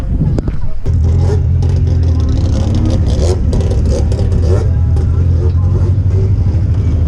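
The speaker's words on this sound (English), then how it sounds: "at least we're gonna get some nice sound and stuff like that through the car" A dirt racing car's engine runs loud and close from inside the stripped cockpit, with a steady low droning rumble and rattling clatter as it revs, while people talk over it.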